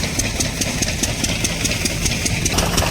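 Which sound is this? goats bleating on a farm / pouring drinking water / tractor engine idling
tractor engine idling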